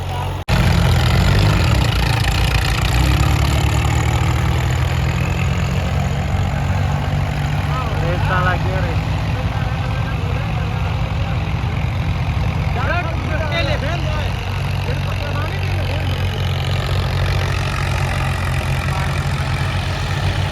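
Eleven or more tractor engines idle with a steady, loud low rumble that doesn't let up, and voices can be heard faintly beneath it.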